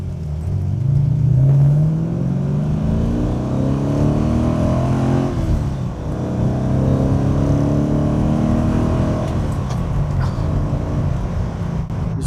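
A 1979 Aston Martin Oscar India V8 accelerates with a loud, close, rough engine roar that rises in pitch through the revs, then dips and builds again, with no talking over it.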